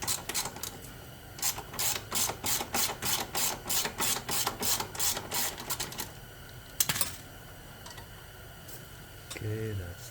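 Ratchet socket wrench with a 13 mm socket working bolts on a Yamaha Raptor 250 ATV during a nerf guard install, giving a run of about a dozen rapid, even clicking strokes, then a lone sharp click and a brief voice.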